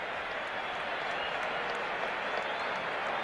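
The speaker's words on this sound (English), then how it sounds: "the crowd here applauding the effort by Tom Brunansky" A baseball stadium crowd at a Minnesota Twins versus Kansas City Royals game applauds in a broad, steady wash of clapping, distant and even, under a broadcast mix.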